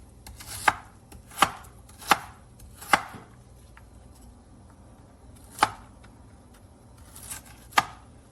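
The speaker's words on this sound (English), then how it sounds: "now we're gonna start cutting up our red onion" A knife chops through red onion on a board in sharp, close strokes: four quick cuts, a pause, then a few more spaced cuts in a quiet kitchen.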